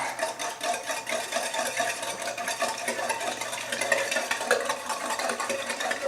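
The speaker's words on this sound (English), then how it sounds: "And now you get to whisk." Eggs being whisked with cashew milk in a bowl for a sweet potato quiche, a quick steady scraping and tapping rhythm of the whisk that carries on throughout at moderate loudness.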